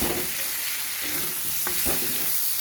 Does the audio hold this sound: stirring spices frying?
yes